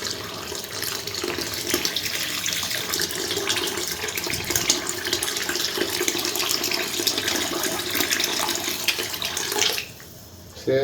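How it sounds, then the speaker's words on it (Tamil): Water poured steadily into a pot of roadside-style empty salna for parotta, a continuous loud splashing rush that runs for about ten seconds, then stops briefly before resuming. "இன்னும் ஒரு 1/2 லிட்டர் தண்ணி இதில் சேர்க்கணும்."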